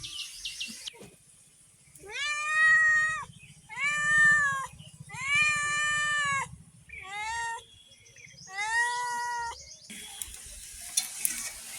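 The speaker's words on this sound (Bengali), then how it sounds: "বিড়ালের তো সব খেতে লাগে" A cat meows five times in a row, clear and close, each call drawn out with a rising and falling tone, while a pan sizzles faintly in a home kitchen where fish and mixed vegetables are being cooked.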